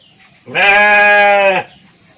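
A single sheep in a pen lets out one loud, close, wavering bleat lasting about a second, over a faint steady high-pitched background hum.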